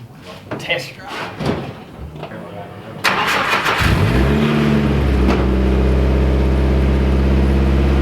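A lowered stance car's engine cranks and catches around the three-second mark, then settles into a steady, loud idle with a low droning hum; voices talk over the start before it fires.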